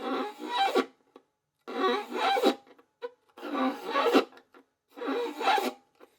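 Four rhythmic chop bow strokes on a fiddle, each a short raspy scrape bowed in a clockwise circular motion and ending with added pressure, separated by brief silences, close and clear with no talking.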